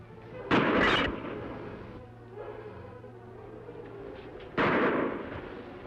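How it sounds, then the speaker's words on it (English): Pistol shots in an old Western radio-style drama, two loud sharp bursts a few seconds apart with rolling echo, separated by a low steady hum. "Listen. Pistol shots, Kemo Sabe."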